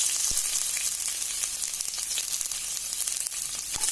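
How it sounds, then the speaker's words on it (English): Garlic and green chilies sizzle steadily in a pan over a lowered flame, with red chilies and ginger already added; a continuous bright frying hiss with occasional small pops and stirring clicks, close and alone. "I'm going to saute this for 5 minutes"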